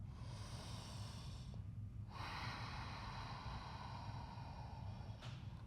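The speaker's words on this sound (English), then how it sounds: "steady breathing." Steady breathing during an Ashtanga yoga flow in down dog: a long, airy exhale, a pause, then a longer breath and a short sniff near the end, close and alone with no talking.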